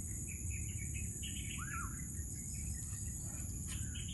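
Birds chirp outdoors with scattered short calls and one clear sweeping whistle, set against a steady bed of insect buzz and a high continuous trill.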